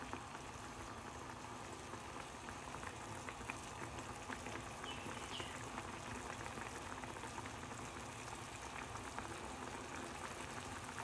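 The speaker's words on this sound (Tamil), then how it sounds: "நன்றாக கொதித்து கொஞ்சம் தடிப்பான தன்மைக்கு வந்து கொண்டிருக்குது" Thick tin fish curry bubbles and simmers in a pot, a continuous soft crackling boil with dense little pops, steady and close, with no voices over it.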